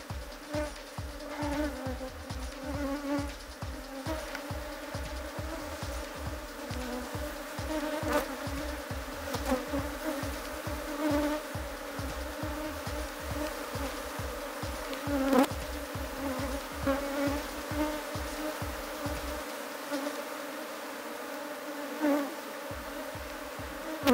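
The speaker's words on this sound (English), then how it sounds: "so these bees, you see, like they want to sting the comb" A dense, steady hum of many honeybees buzzing up close around honeycomb, continuous and droning, with brief rhythmic thumps underneath for most of the stretch.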